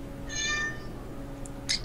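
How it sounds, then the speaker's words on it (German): A cat meows once, fairly clear and close, then a couple of brief sharp sounds follow, all over a steady low background hum during a Magicka game session. "Katzengeräusche!"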